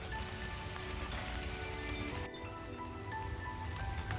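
Steady rain patters over a vegetable garden of tomatoes, squash, cucumbers and corn, a dense even hiss of drops hitting leaves and soil throughout, close and fairly loud with no talk.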